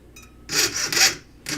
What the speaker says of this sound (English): instead of sawing these little grooves that I'm making